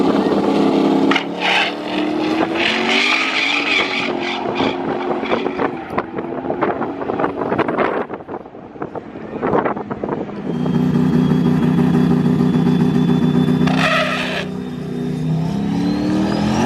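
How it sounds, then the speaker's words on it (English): Race cars at a small-tire racing event scream past with engine roar and buffeting wind, and a sustained high squeal from the tires rises over the noise toward the end. "Just time the tire squeal."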